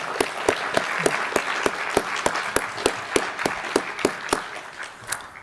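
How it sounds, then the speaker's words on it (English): A crowd applauds steadily, with a dense patter of hands and a few louder, sharper claps standing out at a regular pace. "can we give all of our retirees a big round of applause, please?"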